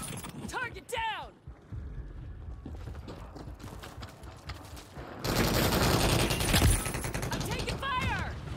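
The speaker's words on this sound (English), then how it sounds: "I'm taking fire" Gunfire in Modern Warfare 3, a dense rattle of distant shots and mechanical clatter that swells louder in the second half, with radio-style voices and chirping effects mixed in.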